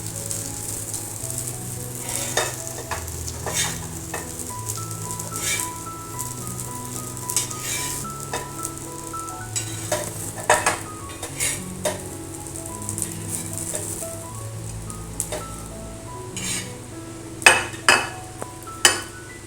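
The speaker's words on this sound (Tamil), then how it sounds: "அடுத்த இது வறுத்துடலாம் நம்ம." Raw banana slices fry in a pan for valakkai varuval, a steady sizzle broken by scattered clinks of a spatula against the pan that grow sharper and louder toward the end.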